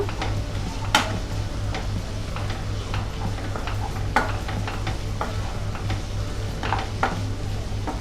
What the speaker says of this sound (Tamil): இப்போ இஞ்சி பூண்டு பேஸ்ட்டு சேர்த்துக்கலாம். இதோட பச்சை வாசனை போகிற வரைக்கும் வதக்கிக்கோங்க.